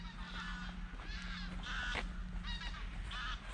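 Ducks or geese call by a river on an overcast day in Gorinchem, a run of nasal honks repeating over a steady low background hum, fairly close and clear, with no talking.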